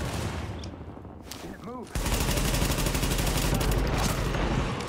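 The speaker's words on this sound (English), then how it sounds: "someone else is shooting me from where?" Gunfire in The Division, a sparse crackle that becomes a loud, sustained fusillade of rapid shots indoors, with a brief spoken word near the start.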